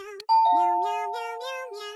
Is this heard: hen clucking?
no